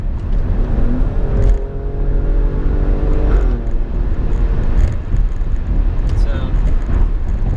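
Engine and exhaust of a 505 hp 2018 Alfa Romeo Stelvio Quadrifoglio heard from the cabin while driving, a loud continuous drone with rising revs and gear shifts, under occasional talk.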